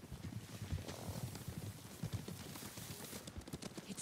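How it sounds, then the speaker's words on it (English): Horses approach in the video game Ghost of Tsushima, a soft, continuous patter of hooves clip-clopping on the ground, quiet and somewhat distant, with no talking. "Horses, they're coming for us."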